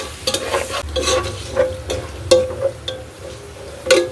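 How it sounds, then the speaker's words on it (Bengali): Onions frying with spices in a pot, stirred often, giving a steady close sizzle with repeated scraping clatters and no talk. "এখন হচ্ছে আমি পেঁয়াজটাকে ভালোভাবে ভেজে নেব যতক্ষণ পর্যন্ত লাল না হয়।"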